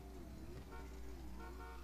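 Car horn in GTA 5 Online sounds as a faint, sustained toot layered under steady engine and game noise.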